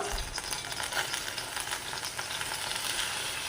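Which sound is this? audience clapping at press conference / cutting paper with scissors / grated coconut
grated coconut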